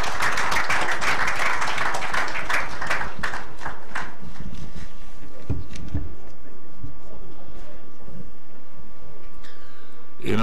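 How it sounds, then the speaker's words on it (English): An audience at a national workshop opening ceremony breaks into loud, dense applause after a speech; the clapping fades after about four seconds into quieter murmuring room noise. "when I listened to the round of applause"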